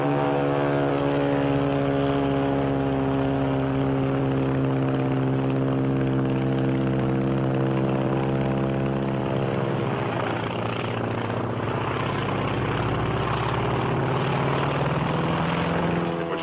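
Japanese Zero WWII fighter plane flying, its propeller engine droning as a loud, steady, tonal roar that shifts in pitch partway through as it passes, with no talking.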